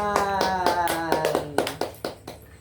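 A few people clapping, sharp claps landing over a musical tone and voices in the background, then the claps thin out to scattered single hits.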